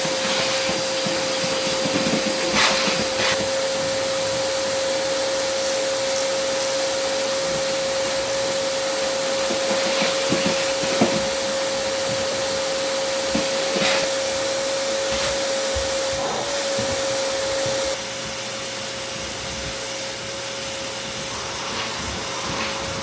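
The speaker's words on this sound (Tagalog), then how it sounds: "Kuha lang ko ng vacuum." A household vacuum cleaner runs steadily for the whole stretch, a loud continuous whine with a sharp steady tone, a few knocks and scrapes as it is moved about, and the pitch dropping a little near the end.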